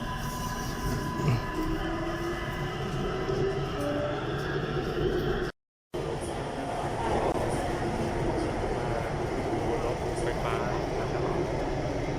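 A Bangkok sky train rumbles loudly through a station with a continuous roar of wheels and motors, a brief dropout midway, and faint voices beneath the noise.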